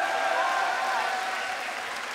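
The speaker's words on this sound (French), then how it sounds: "Vous pouvez les applaudir encore s'il vous plaît." Crowd at a CS:GO esports grand final applauding, a dense continuous wash of clapping that fades slightly toward the end.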